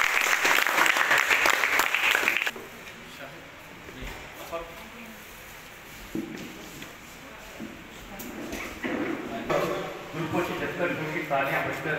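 Applause rings out at an honouring ceremony, loud clapping for the first couple of seconds, then fading into quieter murmur and talk with scattered rustling as speech carries on.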